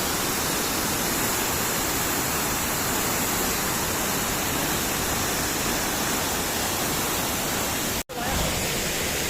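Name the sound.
Mailung waterfall in Rasuwa, Nepal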